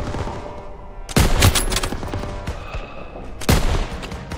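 Machine gun fire in the Call of Duty WW2 game during a street battle, loud bursts of rapid automatic shots that swell twice over a constant backdrop of gunfire.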